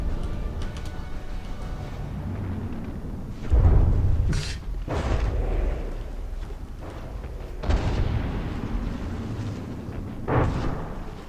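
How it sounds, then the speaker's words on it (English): Torpedo hits exploding in a video game land as heavy booms: a big blast, then two more a few seconds apart over a steady rumbling battle background, with no talk. "a lot of torpedo hits there"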